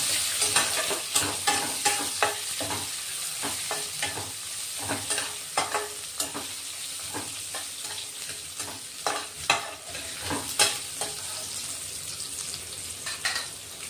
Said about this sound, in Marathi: कांदा अर्धा कांदा कट करून घेतलेला, परतून घेऊ आता।